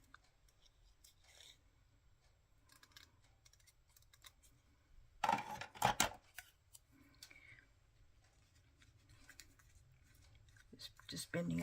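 Scissors snipping out a small paper butterfly for a scrapbook card, quiet intermittent cutting and rustling with a louder burst of paper handling midway, close up, with faint speech at times.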